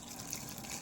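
Coconut milk strained and poured, a close steady trickle of liquid splashing into a vessel, brief and soft with no talk.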